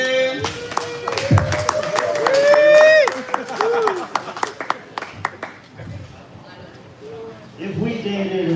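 A comedy club audience applauds a comedian called Mr. Morgan on a live Monday night show, with scattered, patchy clapping running under an announcer's voice and crowd murmur.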